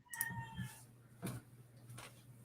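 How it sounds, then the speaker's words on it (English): A cat meows a few times in short bursts, fairly close, over a low steady hum with quiet gaps between calls. "Kitty cat."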